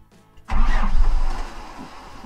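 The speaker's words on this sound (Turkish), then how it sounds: "Döndürmüyor, dinamo kaçırıyor." A pickup truck's starter motor slips without turning the engine over: after a quiet moment, a loud, short, rough whirring burst lasts about a second, then tails off.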